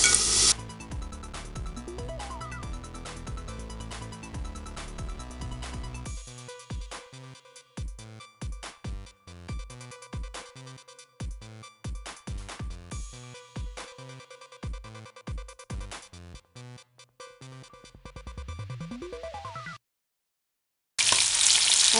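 Fish and curry leaves fry in hot sunflower oil for a green pepper fish fry, a steady sizzle broken by clatter and stirring scrapes, alone with no talk, ending in a brief silence and a final burst of frying.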